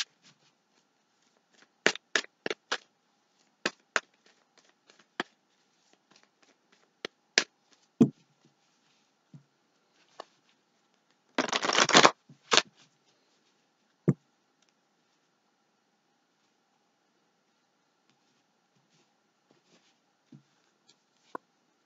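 Romance oracle cards are shuffled by hand in scattered bursts, with sharp riffling snaps and soft clicks, one longer riffle near the middle, then long quiet gaps toward the end.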